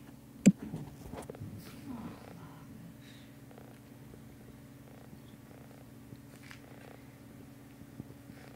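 A kitten purrs close up in a steady, continuous low rumble, with a single sharp click near the start and faint background noise.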